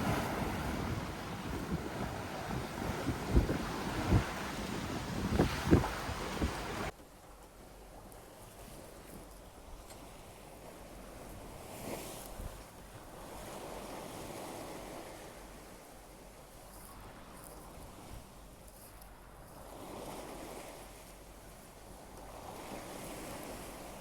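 Waves and wind roar around a sailboat beating upwind on the open Pacific off Oahu, loud and gusty for the first seven seconds, then settling into a steadier, softer wash of water and breeze.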